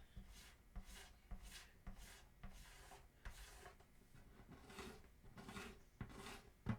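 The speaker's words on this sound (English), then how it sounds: "you can hear it scraping" A razor blade scrapes back and forth across the lacquer finish over a repaired crack on a Martin acoustic guitar, giving about ten quiet, rhythmic rasping strokes, close up with no talk.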